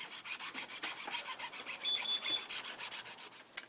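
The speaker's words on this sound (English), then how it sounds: "Right now we're about 10 minutes into filing on this bridge." Close, rhythmic rasping strokes of a small file shaping a wooden cello bridge, about a dozen even back-and-forth passes in quick succession with no voices.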